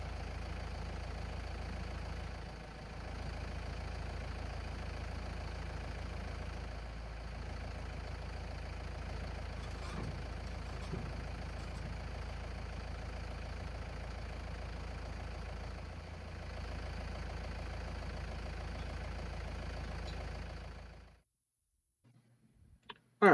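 A tractor engine idles in a steady low drone while a Land Pride RTR2072 tiller is lowered, running evenly for about twenty seconds before cutting off, followed by a few faint clanks.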